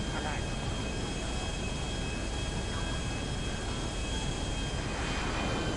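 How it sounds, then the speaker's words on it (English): A jet roars past overhead in GTA 5 Online, a steady broad engine rush with a faint whine that holds for several seconds, under players chatting. "it was like just a jet gone past"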